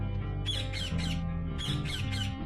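Cartoon caged bird squawking loudly in two bursts of three sharp, shrill calls, close and clear over a faint background hum.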